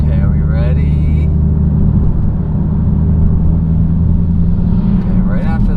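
A 707 hp Dodge Challenger Hellcat Widebody accelerates hard, its engine a loud, steady, deep roar that holds throughout, with brief voices at the start and end.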